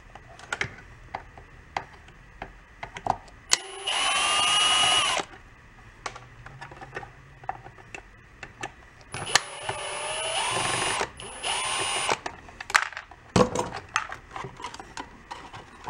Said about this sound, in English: we got a couple of screws right there. Let's go get those out.